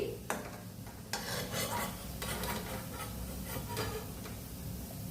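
Paneer malai kofta frying in oil with a constant bubbling sizzle, punctuated by utensil scrapes and clinks against the pan, near and unaccompanied by voices.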